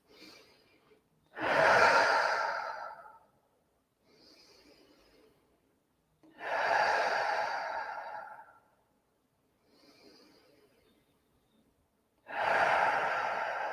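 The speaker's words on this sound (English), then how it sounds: "Let's take 3 deep breaths, in through the nose, out through the mouth." Three slow, deep breaths during a guided meditation, each a loud exhale through the mouth lasting a couple of seconds, preceded by a quieter inhale through the nose, with silent gaps between them.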